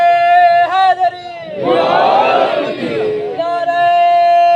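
A large mourning-gathering crowd at a Muharram majlis roars a religious slogan in unison, a loud massed shout of about two seconds, framed by a single amplified leader's chanting voice before and after.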